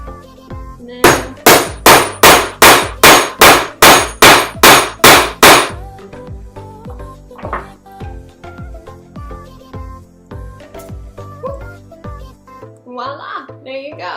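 A hammer strikes an eyelet setter about a dozen times in a quick, even run of loud, sharp metallic blows while fitting an eyelet into a DIY corset belt, followed by quieter clinks and handling.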